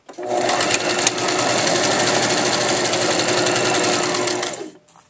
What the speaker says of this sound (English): just sew a straight seam right down the side of the skirt